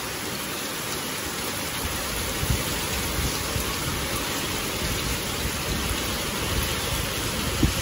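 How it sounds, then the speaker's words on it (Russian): Heavy rain pouring in a thunderstorm in Bashkiria, a dense, constant roar of falling water with a few louder drops standing out, steady throughout with no voices. "Дождь стеной, да и под углом."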